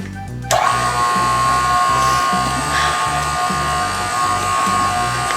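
An electric hand mixer whirs steadily through vanilla cake batter, starting abruptly after a brief moment and running loud and continuous with a rhythmic pulsing hum, with no talking.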